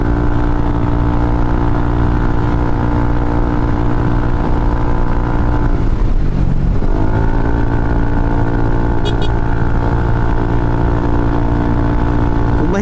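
A Yamaha NMAX V2 motor scooter labours up a hill road, its engine droning loudly and continuously, with a brief dip in pitch midway before it steadies again.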